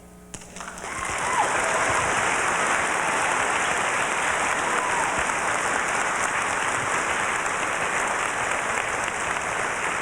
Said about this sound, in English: accept another round of applause